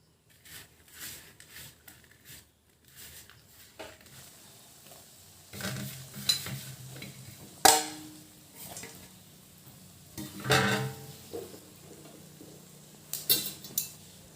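Sweet ripe mango pickle with jaggery simmering in a pan: low frying sizzle and bubbling with intermittent spoon stirs scraping and clinking against the metal, close up and without talk.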